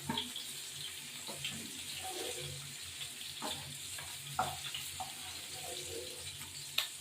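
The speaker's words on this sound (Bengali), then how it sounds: "এই মাছ কটা ভাজতে হবে" Quiet, steady sizzle of small charapona and tengra fish frying in oil, with occasional small clicks and pops throughout.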